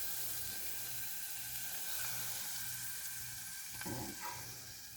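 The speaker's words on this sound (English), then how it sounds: "You don't want to burn it, so you see that sizzling." Steady, close sizzling of honey garlic crispy chicken ingredients frying in a pan, a continuous crackling hiss with a few faint clinks near the end.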